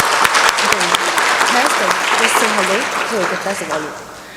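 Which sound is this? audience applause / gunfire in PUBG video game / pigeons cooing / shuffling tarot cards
audience applause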